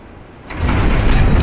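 A door opening in Dark Souls Remastered, a short quiet lead-in followed by a loud grinding, sliding rumble of stone or metal that swells and holds to the end.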